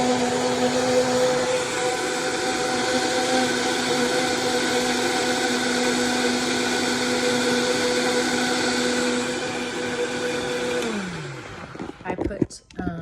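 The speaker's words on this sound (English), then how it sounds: "I put rolled oats in there. So I leave it on a little bit to keep grinding it." A blender grinds rolled oats with a loud, steady whirring whine held for about eleven seconds, then winds down and stops, followed by a few clattering handling sounds.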